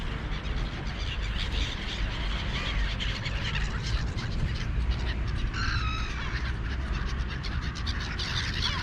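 Pigeons and gulls gather on a rooftop, their calls faint over a steady loud wash of outdoor noise, with a brief higher warbling cry around the middle.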